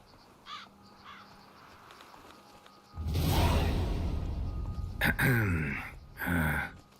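Crows caw loudly in the Witcher 3 Blood and Wine expansion, with harsh repeated calls after a quiet start and a swooping wingbeat rush between them.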